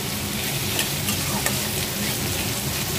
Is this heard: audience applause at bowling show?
no